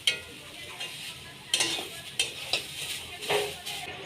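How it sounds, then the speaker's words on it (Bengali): Soft sizzling of carrots frying in a pan over low heat, with scraping stirring strokes every second or so, close and moderately quiet, no voices. "হালকা তাপে ভেজে নিতে হবে, বেশি তাপ দিলে পুড়ে যেতে পারে।"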